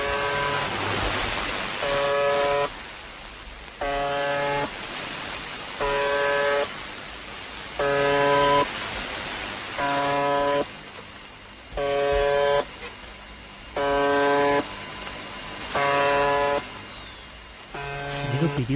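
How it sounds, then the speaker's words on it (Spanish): A harsh, buzzing electronic tone from the UVB-76 shortwave radio station sounds in regular bursts, each lasting about a second, repeating steadily over a hiss of static. "un ciudadano con su receptor de onda corta recibiera este extraño zumbido"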